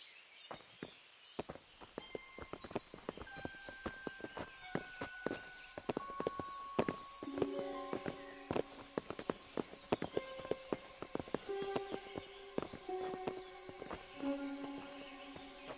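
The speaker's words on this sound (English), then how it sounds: "Bring the horses." Horses walk with clip-clopping hooves in the medieval game Kingdom Come: Deliverance, irregular hoof steps and shuffling over a soft musical score with sustained tones.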